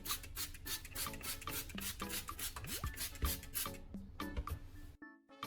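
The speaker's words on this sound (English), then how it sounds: "Keep the headlight wet while sanding." Rhythmic rasping strokes of sandpaper wet sanding a plastic car headlight, repeated back and forth at close range, stopping briefly near the end.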